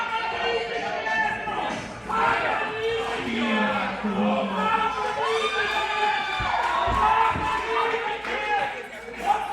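A wrestling crowd at a tag-team match cheers and shouts in a steady, lively roar, with a voice talking over it and a few sharp thumps.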